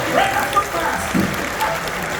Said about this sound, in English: Round of applause for Captain Tassos, everyone